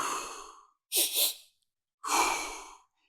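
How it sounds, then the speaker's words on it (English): Two audible breath sounds from a person demonstrating a calming breathing technique: a short double intake, then a long, loud exhale through the mouth, close to the microphone with no speech. "then you breathe out through your mouth"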